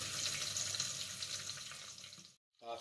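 Rendered chicken fat dripping and trickling through a strainer, a continuous close wet patter that stops abruptly before a brief burst of another sound.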